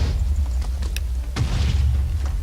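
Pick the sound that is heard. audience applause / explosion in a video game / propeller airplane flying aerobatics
explosion in a video game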